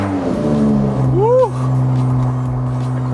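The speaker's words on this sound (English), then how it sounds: "All I have is a FabSpeed Motorsport muffler bypass on this car, and it sounds really sick." The engine of a BMW 2/3/4 Series (235i/335i/435i) with a FabSpeed Motorsport muffler bypass exhaust drones loudly at a steady idle after a cold start, while a person whoops over it partway through.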